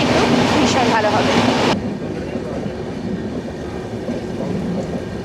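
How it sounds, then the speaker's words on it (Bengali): Inside a 3rd AC coach of the Poorva Express from Howrah to New Delhi, a steady rumbling roar of the running train, loud at first and then dropping to a lower, duller drone. "মনে হচ্ছে একটু আগেই ঢুকে যাবে নিউ দিল্লি স্টেশনে পূর্বা এক্সপ্রেস"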